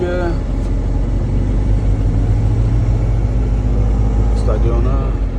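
Vehicles idle and crawl in an 8 a.m. Las Vegas traffic jam, heard from a truck. A steady mid-low engine drone continues throughout, with faint voices at the start and end.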